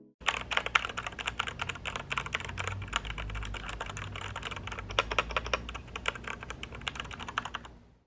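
Fast typing on a Royal Kludge 60% keyboard with red switches, a close, steady stream of soft clicky keystrokes with occasional heavier thocks, played alone.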